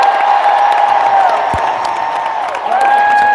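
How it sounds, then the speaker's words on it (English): A large audience at a live D23 Disney Experiences panel applauds and cheers, with sustained whistles and whoops riding over a dense, continuous crowd roar that stays loud throughout. "we're going to have to hear a loud applause"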